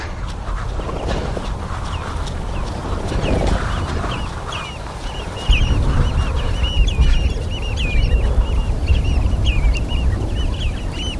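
A large flock of geese calling, with dense overlapping honks running continuously over a steady outdoor rumble that grows louder midway.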